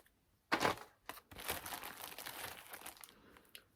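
Cut-out bits of plastic for quilting are handled and crinkled up close, starting with a sharp burst and going on as a dense rustle for a few seconds, with no voice.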